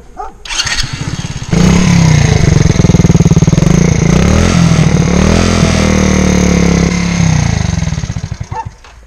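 A 50cc Champ motorbike engine sputters, catches and revs, then runs at a steady loud idle with a buzzing rattle before cutting off near the end.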